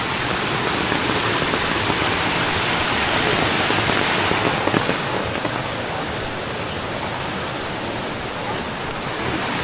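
Heavy monsoon rain pours down in the Konkan countryside, a dense, steady roar of water that holds at the same loudness throughout, with no voices.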